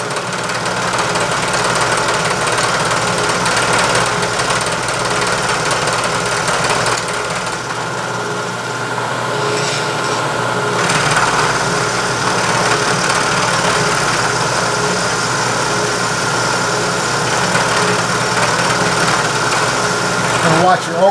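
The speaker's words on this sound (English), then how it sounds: "So I'm just going to drop down 15 and we'll start milling." A milling machine takes a single 15-thousandths pass across a steel carriage stop body with a radius, giving off a steady, loud mechanical drone and cutting noise that runs unbroken throughout.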